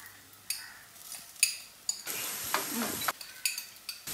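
Ginger, garlic and green chili paste with onions frying in a pan, a spoon scraping and clinking in irregular strokes over a soft sizzle, with one longer hissing burst in the middle.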